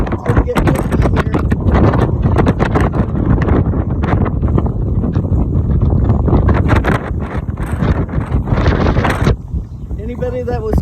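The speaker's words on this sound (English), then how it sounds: "It's gonna get windy here." Strong gusty wind buffets the microphone at the windy top of Saint Mary's bell tower in Cork, loud rumbling bursts nearly throughout, with a voice talking at times.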